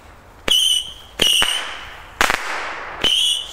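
Consumer fireworks set off outdoors whistle and shriek in sharp rising bursts, with a crackling pop in between, several loud nearby releases in quick succession.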